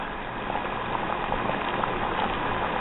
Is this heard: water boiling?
yes